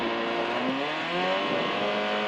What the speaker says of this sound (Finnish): Ja me jää suttaamaan siihen paikalle